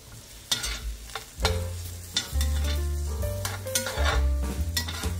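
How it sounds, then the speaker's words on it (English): Onions sauté for a beef stew stroganoff, sizzling in a pan while a utensil scrapes and knocks against it in irregular bursts between stretches of steady frying. "And saute this."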